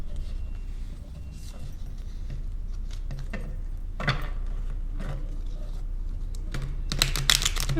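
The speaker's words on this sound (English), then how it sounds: "to shuffle the cards." Tarot cards shuffled by hand in a quiet room, a soft run of crisp flicking and riffling bursts with brief pauses, brightest near the end, no talking.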